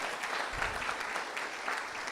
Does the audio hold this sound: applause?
yes